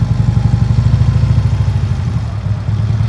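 A Harley Road Glide motorcycle makes slow, tight U-turns at low revs. Its engine gives a steady, loud, close-up lumpy idle rumble with a rhythmic pulsing throb throughout, and no voices are heard.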